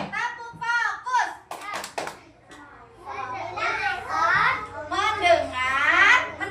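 Preschool children in an early-childhood classroom do a rhythmic focus clap: a quick cluster of sharp, close hand claps, then lively group chanting by young voices.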